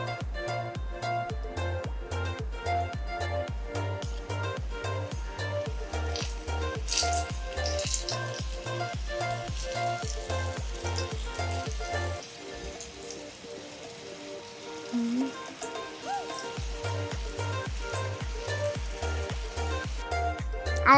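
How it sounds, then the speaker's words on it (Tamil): Potato French fries sizzle steadily in hot oil over a high flame for a second fry, a constant crackling hiss beneath a loud rhythmic music beat that briefly drops out midway. "இப்போ மறுபடியும் ஃப்ரை பண்ணிக்கலாம்."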